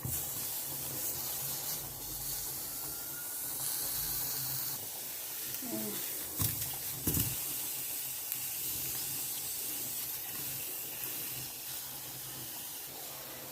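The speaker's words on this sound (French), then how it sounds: "dans la même poêle, je vais un peu braiser l'oignon et la tomate" Onion and tomato braise in a frying pan, giving a steady broadband sizzling hiss that runs throughout, with a few brief clanks of a utensil partway through.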